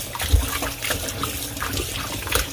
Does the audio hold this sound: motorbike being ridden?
no